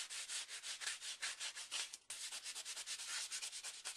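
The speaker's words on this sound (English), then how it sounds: "just sand over the top, and it's gonna so quickly show the metal from underneath" Sanding block or paper rubbing briskly over a metal charm surface to reveal the metal beneath, a steady close scratchy rasp in rapid strokes with a brief pause midway.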